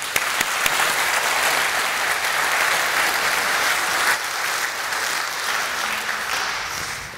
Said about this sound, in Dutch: graag een hartelijk applaus voor Tijmen Schep